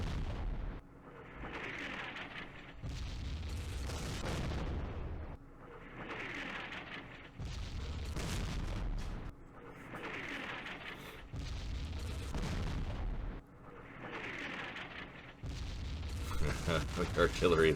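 Artillery fire in the Campaign Series Vietnam game during the 1968 Battle of Khe Sanh Village: repeated heavy booming rounds land at steady intervals, each a deep rumbling blast with crackling debris, loud and continuing throughout.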